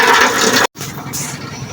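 Rushing, gurgling water drains from a water pump pressure tank close by, cutting off abruptly for a split second before the flow resumes.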